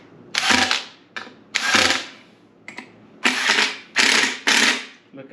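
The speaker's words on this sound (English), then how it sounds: "if you have a screw gun," A screw gun driving screws while a ceiling fan is mounted, several short loud ratcheting whirs, each about half a second long, separated by pauses and heard up close with no talking.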